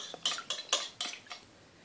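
A spoon stirring vegan coffee walnut cake batter in a bowl, with about five quick, close clinks of utensil against the bowl in an uneven rhythm, then a brief quiet.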